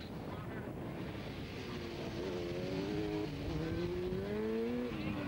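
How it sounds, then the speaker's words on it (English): Road racing motorcycles at a 1999 road race in Monaghan pass at a distance, their engines rising and falling in pitch over steady wind noise, fairly faint and continuous. "Joey Dunlop comes round to complete yet another lap."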